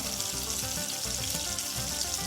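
Cinnamon and four chillies frying in hot oil in a pan, a steady close sizzle with fine crackling that runs unbroken throughout.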